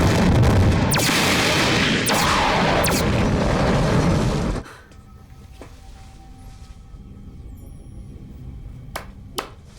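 Several sharp, booming spaceship cannon shots fire in quick succession over a loud rumble, then fade into quieter background with a few distant bangs.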